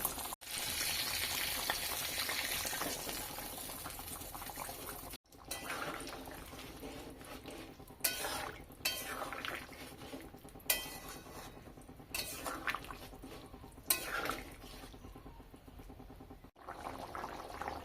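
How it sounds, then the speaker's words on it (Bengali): Eggs are stirred into cauliflower and potatoes in a pan on a switched-off gas stove, giving a soft background sizzle punctuated by scattered utensil clinks and scrapes against the pan. "এরপর গ্যাসের চুলা বন্ধ করে ফুলকপি ও আলুর মধ্যে ডিমগুলো দিয়ে দেব।"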